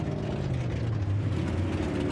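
A Mercedes pickup truck's engine in a multiplayer off-road video game, driving through mud, gives a steady low droning rumble with a faint mechanical rattle, continuous and close throughout with no talk.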